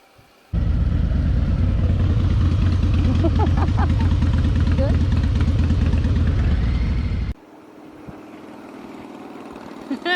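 A Harley-Davidson Fat Boy motorcycle engine runs with a loud, steady low rumble for several seconds, then cuts to a quieter idle-like hum.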